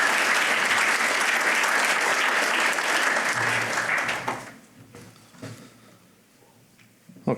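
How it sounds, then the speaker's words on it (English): Audience applause at a pre-election debate on global uncertainty, aid and trade: a dense, loud round of clapping from a crowd that carries on steadily for about four seconds, then thins and fades to a few scattered claps. "let's just give a big round of applause for this evening"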